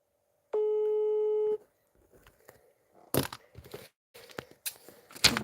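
A single steady electronic telephone tone sounds for about a second while a number is dialed, followed by quieter handling noises and crackly rustling bursts near the phone.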